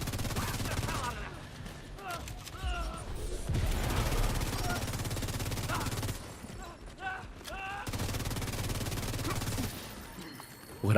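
Gunfire from The Division 2 comes in rapid bursts and scattered sharp shots, with loud stretches broken by brief lulls, while voices talk in the background.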